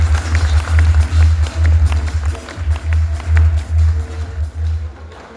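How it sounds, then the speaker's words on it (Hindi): Audience in a hall clapping steadily for several seconds, a loud continuous patter of many hands over a low hum, with no speech. "लिए एक जोरदार ताली होनी चाहिए।"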